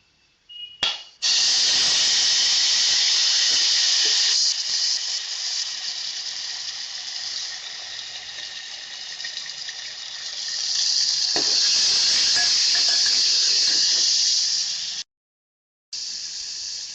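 Ginger garlic paste hits hot oil with cloves and cinnamon in a pan for Kolhapuri pandhara rassa, giving a loud, steady hiss and sizzle that swells mid-way and cuts off briefly near the end.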